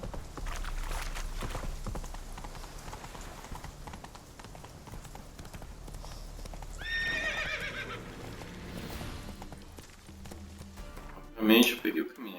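Horse hooves clip-clopping steadily in The Witcher 3, a continuous rhythmic gallop with a horse neighing partway through, while someone talks over it.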